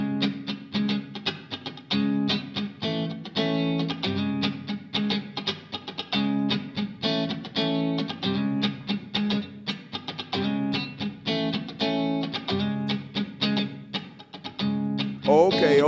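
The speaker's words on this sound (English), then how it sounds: "This is the sound of the electric guitar." At an elementary school concert, an electric guitar played through an amplifier picks out a lively, rhythmic funky riff of short repeated notes, steady and moderately loud, sliding upward at the very end.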